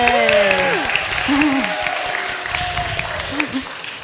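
An audience applauds in a room with a brief burst of clapping, while voices whoop and cheer over it and a person speaks.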